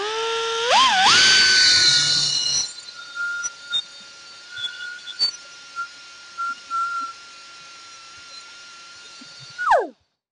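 An air grinder fitted with a pink alumina stone spins up with a rising whine, then runs at a high steady pitch with intermittent grinding contacts before spinning down at the end.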